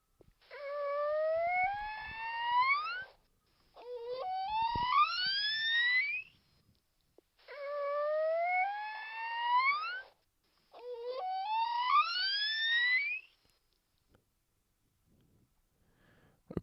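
A mother dolphin's recorded calls play as four rising, warbling whistle bursts, each a few seconds long with short gaps between, the first two in her normal calling and the last two in baby talk, clear against a quiet background.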